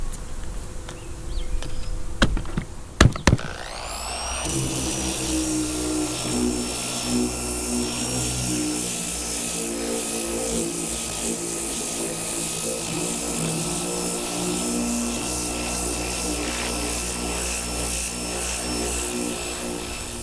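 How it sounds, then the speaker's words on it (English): A DA sander with 80 grit paper scuffs the body of an OBS Chevy Silverado cab corner. It starts after a few sharp knocks and then runs as a steady, close, loud whir for the rest of the clip. "I can get that up with the DA. I'm gonna use 80 grit just so I can scratch up the surface."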